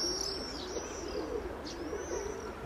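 Several young pigeons, squabs being trained to fly, coo softly and continuously nearby, with a few light tweeting calls rising over the low murmur; no voices break in.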